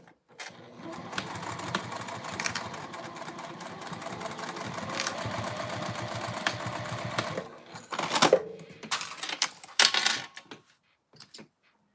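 A sewing machine top-stitches a lined circle bag with a zipper pocket, running in one long steady motor-driven burst for about seven seconds, then in a few shorter stop-start runs.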